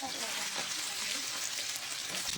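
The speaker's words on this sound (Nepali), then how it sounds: "साथीहरू यो चाहिँ तेल गरम भइसकेको छ। मैले चाहिँ पनिरलाई फ्राई गर्छु।" Paneer pieces frying in hot oil, giving a dense, even crackling sizzle that holds steady and close for a couple of seconds.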